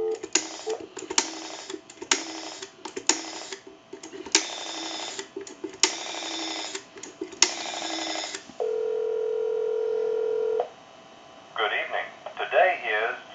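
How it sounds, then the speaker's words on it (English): A Stromberg Carlson 1198 telephone on a Bell 1561 box line gives a run of short dialing tone bursts, then a steady dial tone hum, followed by a faint ringing pattern. "And we'll give you some dial tone, and we'll call that number."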